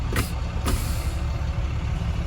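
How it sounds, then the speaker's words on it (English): Two short bursts of hissing air as tractor-trailer air brakes release over a steady low truck engine idle, heard close from inside the cab. "my tractor and trailer brakes are released"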